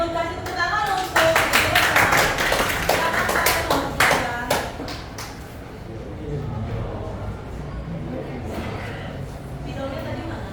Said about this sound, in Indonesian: gue kasih tepuk tangan untuk